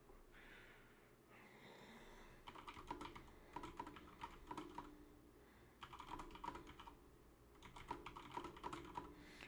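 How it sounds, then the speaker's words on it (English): Rapid bursts of typing on a loud mechanical computer keyboard, clustered keystroke clatter coming in several runs with short pauses, close and fairly quiet, alongside faint breathing and no talk. "Sorry, my keyboard is so loud."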